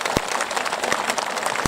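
Audience applause at a large religious tabligh akbar gathering in Jakarta, a dense steady wash of clapping over the full clip with a few louder low thumps, no speech.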